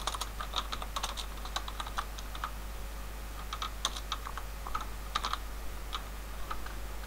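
Steady typing on a computer keyboard while writing PHP code, with clusters of quick key clicks in irregular bursts and short pauses, close and fairly quiet over a constant low hum.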